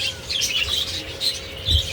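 A crested, white-faced gray clearwing mutation pet bird gives bright, repeated chirps and short squawky calls, close by against a soft background hiss, with a brief low thump near the end.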